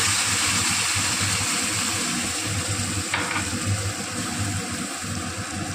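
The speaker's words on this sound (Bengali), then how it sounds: "ভালো করে নাড়িয়ে নেব" Green banana curry with poppy-mustard paste is stirred in a pan, giving a steady close sizzle and frying hiss with a brief scrape midway. No voices are heard.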